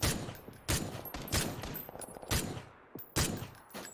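Enemy gunfire in Watch Dogs 2 cracks out as several sharp shots spaced roughly every second, loud bursts with short tails over a low game background.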